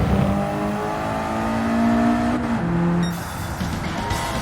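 A race car in Gran Turismo 7 accelerates out of a corner, its engine note climbing through rising gear pitches with a brief shift, loud and close, with faint tire scrub.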